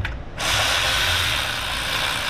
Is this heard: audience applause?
no